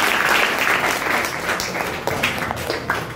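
Applause from classroom students, a dense run of clapping lasting the full few seconds, fairly loud and steady with a slight swell near the end.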